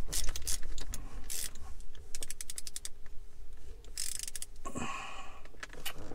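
Small grub screws being tightened on the gear shifter of a Mercedes W203, heard as close, quiet clicks, ratcheting ticks and light metallic scrapes in irregular bursts, with no talking.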